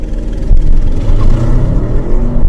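A 2023 Audi RS 7 launching hard from a standstill in its maximum-attack RS2 mode, its engine roaring loud and close with a steady, sustained rising drone and no voices over it.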